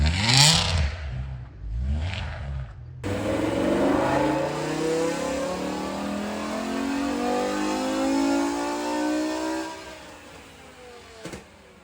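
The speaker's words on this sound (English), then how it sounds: "this is my V10 swapped E92 M3" A BMW E92 M3 fitted with a swapped V10 engine revs loudly, two short sharp blips followed by a long sustained rising pull that holds for several seconds before cutting off.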